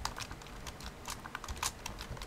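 Rapid computer keyboard typing, a fast scatter of light clicking keystrokes at close range, steady and alone without any talk.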